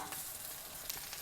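An Impossible burger patty frying in a pan with cheese on top, giving a faint, steady sizzle with small crackles, close by and without speech.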